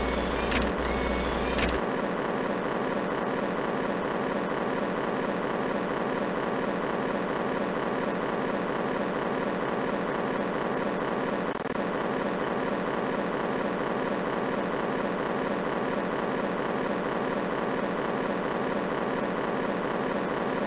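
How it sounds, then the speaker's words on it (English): US Navy F-18 Hornet twin jet engines roaring steadily on the runway at an airshow, a loud continuous drone holding for about twenty seconds with no talk. "The United States Navy F-18 Hornet"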